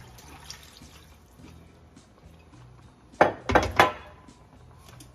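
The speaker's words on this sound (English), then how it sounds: "we're also going to put in, at this point, 3 cups of water" About three cups of water pour into a pot of greens, a short burst of splashing and sloshing against metal after quiet kitchen clatter, close and fairly loud.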